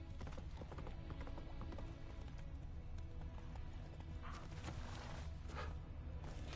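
A horse galloping in The Witcher video game, its hooves clip-clopping in a steady fast rhythm over a dense music bed, with an occasional neigh.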